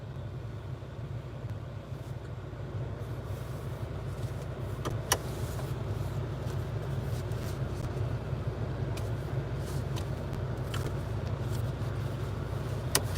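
Idling engine heard from inside a truck cab, a steady low drone throughout with occasional faint clicks and rattles, no talking.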